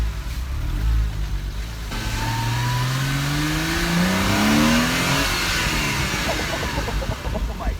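A Porsche Cayman flat-six, running with its engine cover removed, revs up inside a parking garage, its rising pitch sweeping upward to around 5,000 RPM, loud and close with a reverberant echo throughout.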